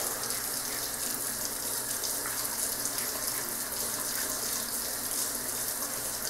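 Tap water runs steadily into a sink while a face is washed and lathered with soap during a wet shave routine, a continuous close splashing hiss with no voices.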